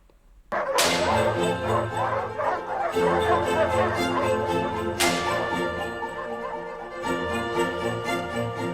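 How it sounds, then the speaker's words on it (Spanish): An orchestral piece whose score calls for barking dogs and a whip: a loud full-ensemble chord strikes with sharp whip cracks at the start and again midway, while dog barks and yips ring through the sustained music. "Esos perros que ladran son parte de la exigencia de la partitura."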